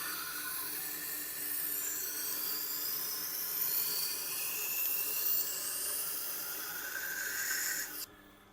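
A Tormek sharpener grinds a Wusthof knife on a 1000 grit stone, a faint, steady whirring hiss with rising and falling high scraping tones as the blade is drawn along, ending abruptly.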